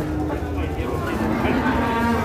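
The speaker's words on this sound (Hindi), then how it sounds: "देखिए जगनाव मंडी की टॉप क्वालिटी की भैंस" Buffalo lowing at the Jagraon cattle market, a steady dense bovine call with a sustained low tone against constant crowd and market noise, close and fairly loud throughout.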